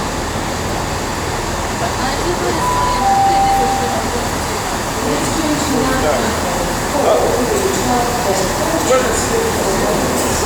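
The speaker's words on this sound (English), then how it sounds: "here comes 158824 to couple up to 158840, then they will work the 12:34 service to Birmingham International" Class 158 diesel unit arriving at Shrewsbury station to couple with another unit, a continuous rumbling approach with brief squeals, heard at a platform while people chat over it.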